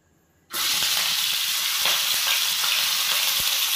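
Chicken feet frying in hot oil: a loud, steady sizzle bursts in after a half-second of near silence and continues without a break, with faint ticks and pops beneath it.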